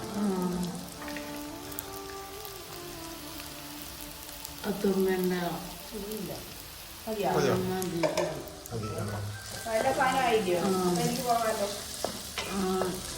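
Food fries in a pan while being stirred, a constant sizzle with scraping stir strokes, as voices talk over it on and off.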